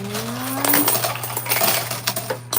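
Coins clatter and tumble continuously into the tray of an arcade coin pusher, a loud, busy metallic jingle with no talk over it.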